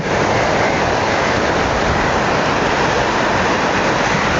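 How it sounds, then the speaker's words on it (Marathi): A loud, continuous roar of surf at Harne port on the Konkan coast, broad and rushing without pause, like large waves breaking close by. "केवढी मोठी लाट आहे हा येऊन धडकतं वा किनाऱ्यावर"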